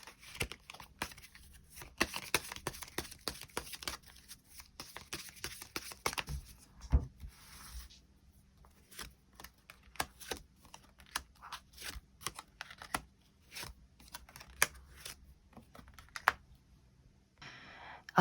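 Tarot cards are shuffled and drawn by hand, making soft, crisp clicks and light slides close by, irregular and fairly faint, with no voices.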